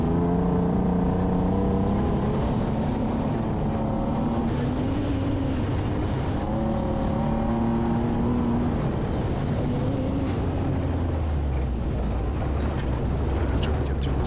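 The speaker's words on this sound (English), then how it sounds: "naturally you can hear the motor. It's chugging a little bit. It started missing on us again." A race car's engine at the Reading Rumble Darkwater race chugs and misfires from inside the cabin, a continuous uneven drone whose pitch wavers up and down throughout.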